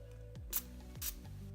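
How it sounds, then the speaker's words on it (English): Two quick, soft spritzes from a spray bottle onto a makeup brush, close by and faint, over a low steady hum. "I'm just gonna spray my brush"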